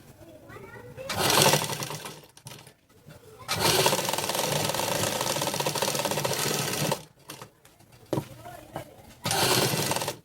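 Sewing machine stitching puff sleeves, running in loud close bursts: a short run, a long steady stretch of several seconds, then a few quicker runs, with brief pauses and quiet voices between them.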